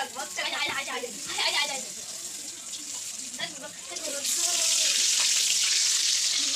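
Bay leaves frying in oil in a home kitchen for a taro curry, a steady hiss that swells into a louder, dense sizzle near the end, with a voice talking over the first part.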